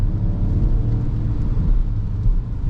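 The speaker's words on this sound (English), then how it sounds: "now you will see also the active sport sound, which is very cool in my opinion" Peugeot 2008 GT 2024 facelift with a PureTech engine, accelerating with its active sport engine sound: a steady, deep engine drone heard from inside the cabin, loud and continuous throughout.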